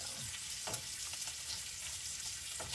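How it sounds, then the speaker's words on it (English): Bacon sizzles in a pan, spitting and crackling in its own grease with a constant bright hiss and scattered sharp pops, nearby and unbroken with no voices. "when I do my bacon, I'm going to let my bacon grease sit in there because I'm going to fry my eggs in that"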